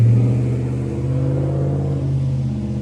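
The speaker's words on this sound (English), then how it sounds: "Noisy trucks." Heavy trucks rumble past close by on a road, a loud low engine drone that holds steady and fades slightly, with no talking.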